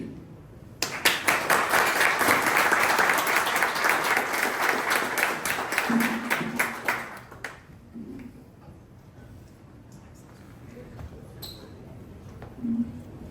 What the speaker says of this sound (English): Another round of applause for Rahul, please.